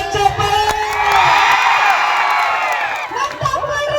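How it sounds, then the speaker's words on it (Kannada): A live crowd at a folk music stage show cheers and whoops loudly for several seconds, with children shouting and a broad wash of voices, briefly dipping before the cheering rises again; no clear clapping stands out. "ಈಗ ನೋಡ ಅನುಗುಣ ಬರ್ಲಿ ಜೋರ ಚಪ್ಪಾಳೆ"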